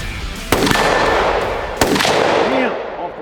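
Two sharp rifle gunshots about a second apart at a moving egg target 50 yards out, each a loud crack followed by a short rolling echo outdoors.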